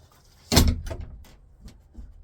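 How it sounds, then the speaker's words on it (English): A goat pen door slams shut on a homestead with one sharp bang, then a few lighter rattles and knocks as it settles. "Always make sure your door's shut behind ya"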